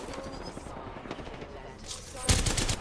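Heavy automatic gunfire with strong recoil in a video game, a dense continuous burst of shots that swells louder near the end, with a voice briefly heard under it.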